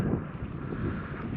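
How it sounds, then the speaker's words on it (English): Low rumbling buffets of wind batter a microphone, a steady muffled roar with no other sounds. "It's a bit windy. I hope we're not picking too much up with the mic"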